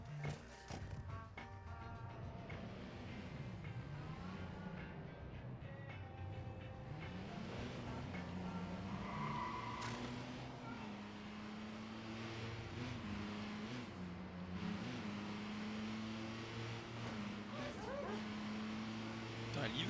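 Car engine in the video game Watch Dogs 2 drones and shifts pitch as the vehicle speeds along, steady and fairly loud for the whole stretch, with a voice talking over it.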